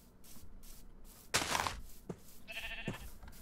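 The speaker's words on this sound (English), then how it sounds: "Well, there's sheep" Sheep bleat in the Minecraft video game, with a loud burst and then a couple of shorter cries over a soft ambient backdrop.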